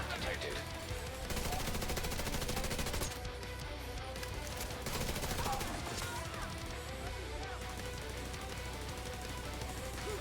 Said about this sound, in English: the turret's taking care of him on its own.